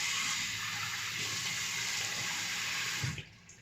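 A bathroom tap runs steadily into a sink as cold water is splashed on the face, a loud, close, continuous hiss and splatter that cuts off sharply near the end.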